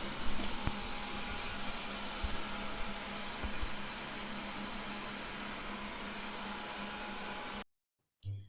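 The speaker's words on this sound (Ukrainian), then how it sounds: "пилисосити мені буде допомагати мій робик. Мій робот-пилисос. Починаю прибирання." A robot vacuum cleaner runs at home with a steady, loud whirring hum and broadband hiss that holds for several seconds, then cuts out abruptly before restarting briefly.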